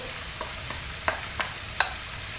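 Courgettes fry in a pan with a quiet, steady sizzle as lardons are stirred in, with a handful of soft scraping clicks from the utensil spaced about half a second apart.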